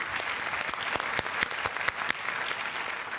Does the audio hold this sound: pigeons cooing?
no